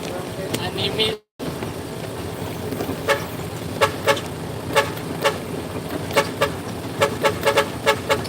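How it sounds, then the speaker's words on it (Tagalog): A faulty vehicle horn honking in short, irregular toots outdoors, with voices talking over the background noise. "Palya kasi yung busina to eh."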